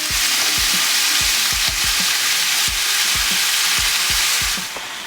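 Beef chunks coated in almond flour browning in a hot pan for a stew, a loud dense sizzle throughout with repeated low knocks from stirring or turning the meat, close up, no speech.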